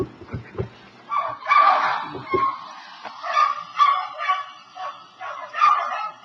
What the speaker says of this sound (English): I made that recording when I dropped my dog off at a kennel